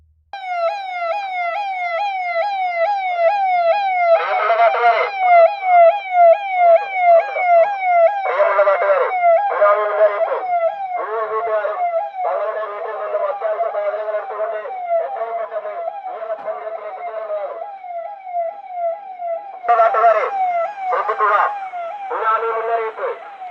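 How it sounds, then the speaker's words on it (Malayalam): A tsunami warning siren sounds during a coastal mock drill, wailing loudly and steadily in fast rising sweeps for the whole stretch, with bursts of other voices or announcements cutting in over it at intervals. "പ്രദേശവാസികൾക്ക് സുനാമി മുന്നറിയിപ്പ് നൽകിക്കൊണ്ട് സൈറൺ മുഴങ്ങിയതോടെയാണ് മോക്ക് ഡ്രില്ലിന് തുടക്കമായത്"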